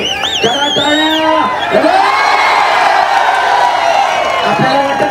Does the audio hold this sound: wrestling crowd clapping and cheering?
yes